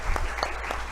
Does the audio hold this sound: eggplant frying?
no